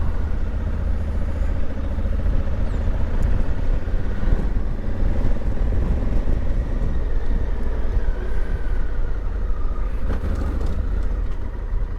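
Motorbike climbing uphill through a tight bend in first gear on a road trip, a loud steady engine drone with wind rumble throughout, no speech.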